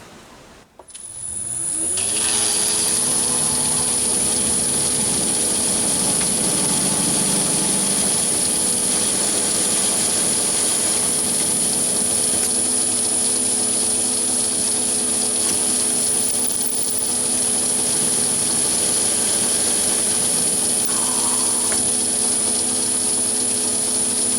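A steady, loud mechanical whine with a high-pitched tone runs continuously as a drill bores into metal to a set depth for a ball bearing, with no talking.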